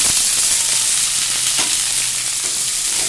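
Onions for a prawn curry fry loudly in a hot pan, a dense, close, continuous sizzle with a few light stirring touches and no talking.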